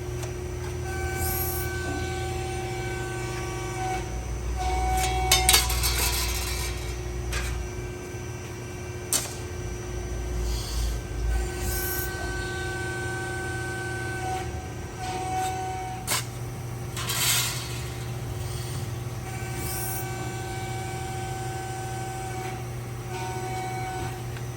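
Press brake in a metal fabrication workshop on a dry run with its ram coming down, a steady machine hum with intermittent mechanical clanks, ticks and whirs over a long stretch and no talk.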